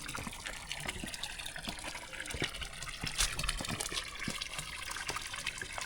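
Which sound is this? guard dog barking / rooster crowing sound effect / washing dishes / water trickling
water trickling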